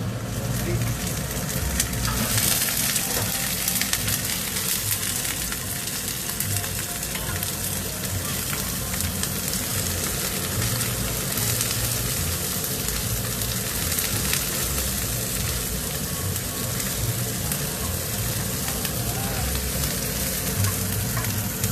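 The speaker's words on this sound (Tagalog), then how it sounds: "Pag-gisa natin ng onion" Onion sizzles steadily in a pan as the base for a seafood paella, a continuous crackling fry with occasional stirring, and a voice talks over it.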